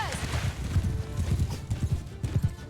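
Horses galloping in Mount and Blade Bannerlord during a river battle, a loud, close rush of repeated hoof clip-clops with an occasional whinny, with a voice speaking over the hooves.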